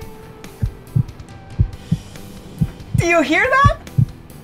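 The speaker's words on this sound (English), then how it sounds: "that's my heart beating" Heartbeat heard through a stethoscope at a fire station, a steady series of soft, low paired thumps, roughly two beats per second, with a person talking over them.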